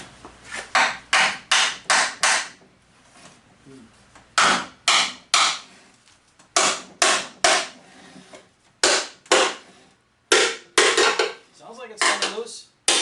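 Sharp metallic hammer blows on a Toyota Prius Gen 3 inverter's metal case land in quick bursts of four or five, separated by pauses, loud and close with a clanging ring.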